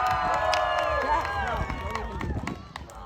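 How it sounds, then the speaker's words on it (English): Crowd noise at a county fair pig race, cheering and clapping in a loud burst that tapers off, with an announcer's voice carrying over it. "Let's get a round of applause out of Sydney's section."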